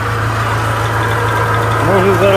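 A homemade log splitter engine idles steadily at about 1000 rpm, a loud, close, continuous low hum with a faint rise in pitch near the end.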